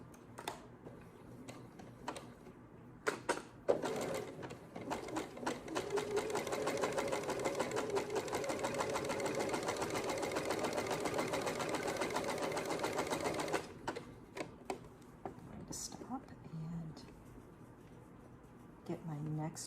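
A sewing machine stitches fabric for baby bummies, with the needle set to stop down, humming in a long continuous close run of about ten seconds, framed by clicks and handling sounds before and after.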